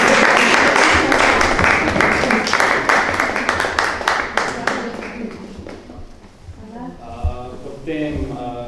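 Audience applause at an exhibition opening: close, loud crowd clapping with crisp individual claps that thins out after about five seconds, followed by a person speaking.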